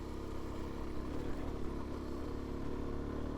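Suzuki DR-Z400S dual-sport motorcycle engine on a chilly morning ride, a steady low droning hum with wind rush, constant and moderately loud with no change in pitch throughout.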